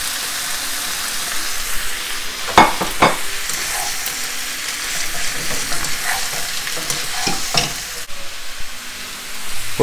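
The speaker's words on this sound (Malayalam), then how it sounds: "അതിലേക്ക് മൂന്ന് ഡിഫറെൻ്റ് കളറിലുള്ള ക്യാപ്സിക്കം ഇട്ട് കൊടുക്കുക." Red, yellow and green capsicum strips stir-fry with beef chorizo in a hot pan, a steady close sizzle broken by a few sharp scrapes and stirs.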